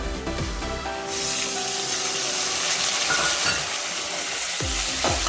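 Two large chopped tomatoes with half a teaspoon of turmeric hitting fried onions in a pan over a medium flame: a loud sizzle that settles into steady frying, with a spoon stirring and clinking against the pan near the end.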